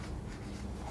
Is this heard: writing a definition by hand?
yes